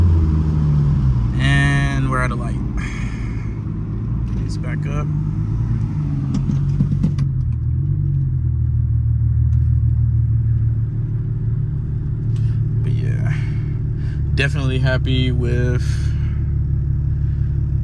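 Infiniti G35 fitted with a Tomei exhaust driving through town, its loud, steady low exhaust drone running the whole time beneath someone talking.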